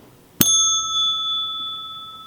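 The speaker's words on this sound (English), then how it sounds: "This next one is called a call bell." A single sharp strike on a metal desk-style call bell, a bright ding that rings on and slowly fades, with no other sound around it.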